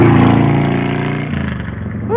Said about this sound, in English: these motorcycles out here,